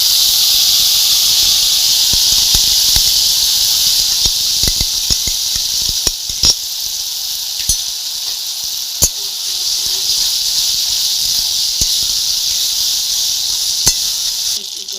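Whole spices sizzling in hot oil for a tempering while pulao cooks, a steady bright hiss throughout with a few small pops and crackles, close and fairly loud.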